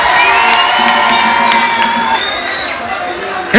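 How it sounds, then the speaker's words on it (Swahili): A live-show crowd claps and cheers for mothers, loud and close, with shouts and whoops over the applause and a voice over a sound system cutting through the noise. "Piga makofi kwa wakina mama wote"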